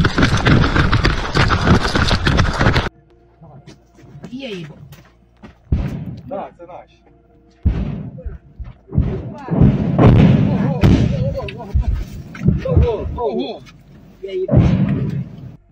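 Russian artillery shells positions with intense fire, heavy booms and thuds landing in bursts, some loud and close, with quieter gaps between impacts and voices speaking at times.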